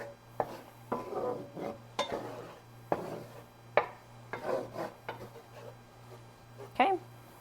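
A utensil scrapes a flour and butter roux around a pan for extra sharp mac and cheese, a series of rhythmic scrapes and taps close by, with a person talking over them.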